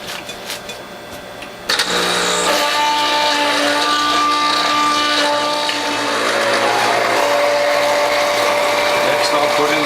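A Norwalk juicer's cutter grinds through ice. After a faint start, it kicks in with a loud, steady whirring drone and a crunching, churning texture that holds to the end.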